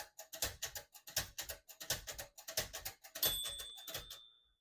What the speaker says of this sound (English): it goes slamming all the way to the end, causing wear and tear on your typewriter